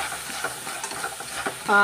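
Jaggery melting with a little water in a hot pan, giving a soft steady sizzle with faint stirring scrapes and a brief louder clink near the end.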